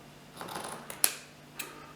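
A couple of crisp snips of fabric scissors cutting material, a soft one then a sharper louder cut, close by with no talking.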